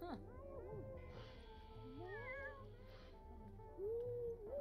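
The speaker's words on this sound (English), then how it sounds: "This is the cat." A cat in the video game The Sims 4 gives several drawn-out meows and a short trill, fairly close, over soft game music and ambience.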